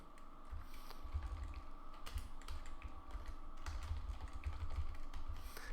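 Keys tapped steadily on a computer keyboard while a C program is typed out, a continuous close patter of soft clicks over a low room hum, with no voices.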